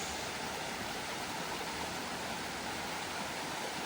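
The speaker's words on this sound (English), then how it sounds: "And here's the waterfall itself." Amicalola Falls gives a continuous, broad roar of falling water, loud and close and unbroken throughout, with no voices.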